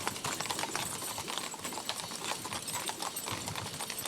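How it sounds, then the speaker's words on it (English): Hooves of the Old Guard Caisson Platoon horses clip-clopping in a steady, overlapping rhythm on pavement at Arlington National Cemetery, moderately close with a busy outdoor background. "These horses are part of an elite platoon within the Old Guard."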